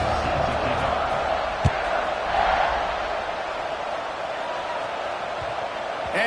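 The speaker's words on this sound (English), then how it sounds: "this crowd is buzzing after that last score" A football stadium crowd buzzes after a score at a college game, a broad, steady roar of many voices at a distance, holding fairly even with one sharp thump partway through.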